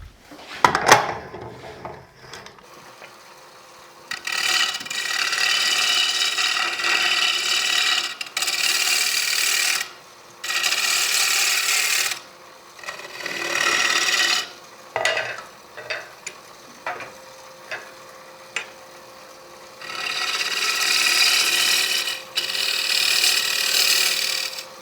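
A tool scrapes a turned wooden oval box with a threaded lid, held in a lathe chuck. Long, steady, hissing scraping passes of several seconds each are broken by short pauses, loud and close, with a clunk at the start and no talking.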